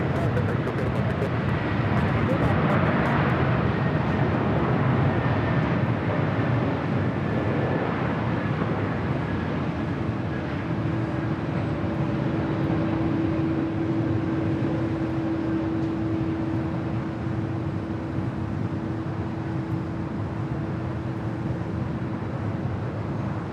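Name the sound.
Boeing 767-300ER airliner departing at LAX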